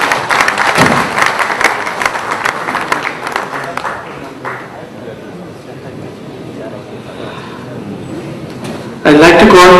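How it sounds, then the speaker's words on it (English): A conference audience applauds a panel guest being called up at a mutual fund sales event, a dense clatter of clapping that starts loud and thins out, with a voice speaking briefly near the end. "Can we have a round of applause, please?"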